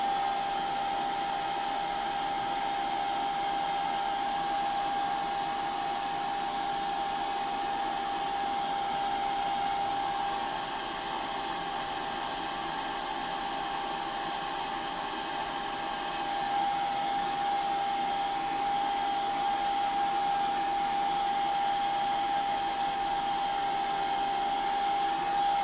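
A hair dryer blowing steadily on salt for weathering a model, a continuous loud whooshing drone with a faint whine, running alone without pause for the whole stretch.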